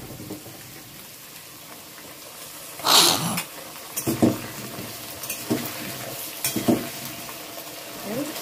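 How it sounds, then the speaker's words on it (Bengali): Diced potatoes tossed into a pan of frying taro, giving a steady oily sizzle with a louder burst as they go in, then intermittent scraping stirs, close up and without speech. "এই কচুটা মোটামুটি বেশ খানিকটা ভাজা হয়ে গেছে, এবার আমি এর মধ্যে আলুগুলো দিয়ে দেব।"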